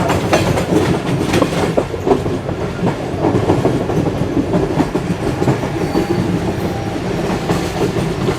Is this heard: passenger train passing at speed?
yes